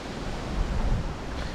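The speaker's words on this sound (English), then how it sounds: "Crikey, it's windy." Strong wind gusting through the city of Hull, a steady, rumbling buffet of air against the microphone that swells briefly in the middle, with no voices.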